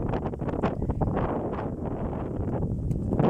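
Strong wind gusting across an open field, buffeting the microphone in a loud, continuous roar that surges and eases.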